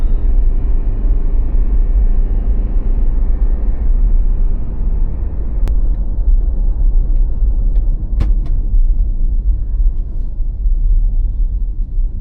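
A small car driving along a mountain road, a steady low engine and tyre rumble heard from inside the cabin, loud and continuous with a few faint clicks and knocks.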